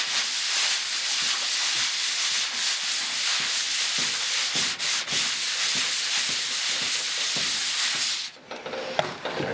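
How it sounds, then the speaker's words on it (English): Steady close-up sanding of body filler on the door skin of a 1967 Mustang, a continuous broadband rasping rub that runs nearly unbroken before easing off near the end, with no voices. "there isn't much more sanding left to do on this area."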